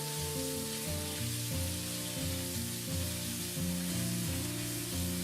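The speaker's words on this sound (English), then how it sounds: "Add in the pork and stir it thoroughly." Pork sizzles loudly in a hot pan with fried garlic while it is stir-fried, giving a dense, steady crackling hiss with scraping stir strokes from a close spatula.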